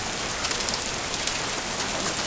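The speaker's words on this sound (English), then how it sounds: "Now it's raining." Heavy rain pouring steadily during a storm in Wyoming, a dense even hiss with scattered louder drops hitting nearby surfaces and a gutter.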